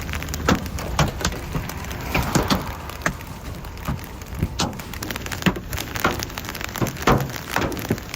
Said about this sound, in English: Giant hailstones slammed directly into a cargo ship